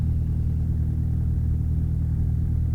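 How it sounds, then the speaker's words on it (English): A 1966 Mooney M20F's aircraft engine running at a steady, loud, droning rumble, continuous and even throughout, with no talking. "Engine is still running happily"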